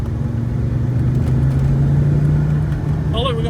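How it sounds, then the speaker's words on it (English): An Audi Ur Quattro with a turbo runs close by, its engine rumbling and droning under excited talk, and a quick chattering flutter from the blow-off valve comes near the end. "I love the blow-off flutter"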